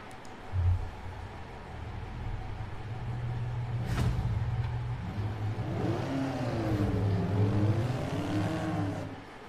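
Supercar engine in Forza Horizon 4, driven with a Logitech G29 wheel and shifter through Britain; a steady engine drone that rises and falls in revving sweeps, fairly loud and continuous with no talk.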